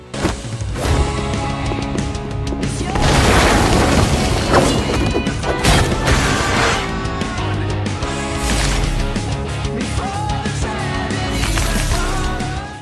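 Walls bust open in an animated RWBY action scene, with heavy smashing crashes and booming impacts layered over loud, dense music throughout.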